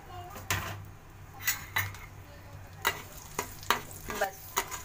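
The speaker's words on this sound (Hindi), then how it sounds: "अब इसके अंदर हम डाल देंगे लहसुन," Garlic fries in a pan for a garlic pickle, a soft continuous sizzle under repeated sharp scrapes and clinks of a spoon stirring against the metal, about ten irregular strokes close up.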